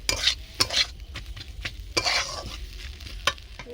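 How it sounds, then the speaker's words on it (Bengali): Fried spices being stirred into a plantain chop filling in a pan, with repeated scraping strokes of a spoon against the pan over a steady close sizzle, no talk. "ওর মধ্যে ভেজে রাখা মশলাগুলো দিয়ে দেবো, দিয়ে আবারও নাড়িয়ে দেবো।"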